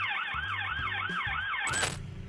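Police cruiser sirens wailing during a chase, a fast repeating up-and-down yelp over a low engine rumble, ending in a brief sharp burst of noise.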